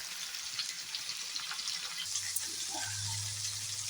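Chopped onion fries in oil with a soft, steady sizzle, fairly quiet and close, joined near the end by a low continuous hum.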